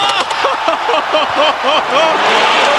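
A packed basketball arena crowd roars after a high-flying dunk in a game against Trevor Ariza, a dense, sustained wall of cheering and shouting with whoops rising over the din throughout.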